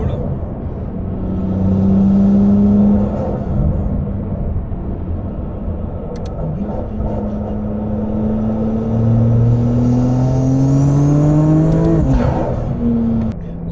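An RML GT Hypercar with a 950 hp four-wheel-drive engine pulls hard under heavy throttle, a deep cabin-heard engine drone rising in pitch through long gear pulls with a shift, while someone talks over it.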